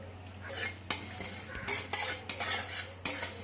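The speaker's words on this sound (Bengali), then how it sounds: "এই দুটো শুকনো লঙ্কা দিচ্ছি দিয়ে আমি হালকা করে ভেজে গুঁড়ো করে নেবো" Cinnamon, cloves, cardamom and dried red chillies dry-roasting in a hot kadai for chana masala, heard as sharp scraping and clinking strokes of a metal spoon against the pan, several distinct knocks over a low steady hum, with no talk.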